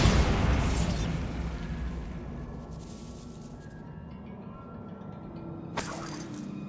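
A Bombarda spell blast in Hogwarts Legacy opens loud and close with a broad booming burst that slowly decays into a rumbling tail over a sustained backdrop, with a smaller crack near the end.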